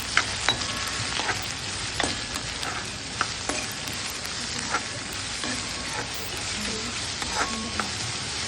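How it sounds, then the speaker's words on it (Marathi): Medium-sized onions sautéing in a pan for a Konkani jackfruit vegetable dish, a steady close sizzle and crackle with occasional scraping stir strokes, no talking. "कांदा चांगला परतून घ्यायचा."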